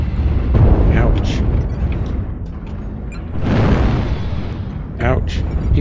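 Weapons fire and heavy explosions in a mech combat video game, several booming blasts and bursts of gunfire in quick succession, loud and close.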